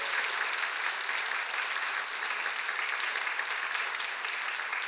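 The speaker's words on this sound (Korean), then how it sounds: "우리 정식 회원이 되신 세례교인 되신 네 분을 우리가 축하하는 마음을 담아서 좀 박수로 환영했으면 좋겠습니다" A church congregation gives steady, sustained applause to welcome four newly baptized members during a Sunday service, a dense, even clatter of many hands all the way through.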